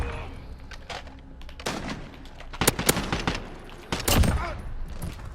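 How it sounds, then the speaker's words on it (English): Full-auto bursts from an FAL battle rifle in Modern Warfare, several loud, sharp clusters of rapid gunfire rising over a quieter game backdrop, the heaviest volleys coming near the middle and end. "it is hard to control the recoil in this thing when firing full auto"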